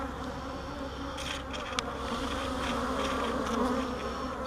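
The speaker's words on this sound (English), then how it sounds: "So many bees." Bees swarm around an open beehive during hive inspection, a dense, continuous buzzing hum with individual insects flying close past the microphone now and then.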